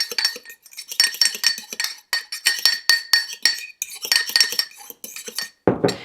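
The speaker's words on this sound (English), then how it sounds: "We're going to stir it so it's really mixed together." A spoon clinks repeatedly against the inside of a coffee mug while stirring mug cake batter made with milk, a quick irregular series of close, bright metallic taps that ends with a short scraping rustle.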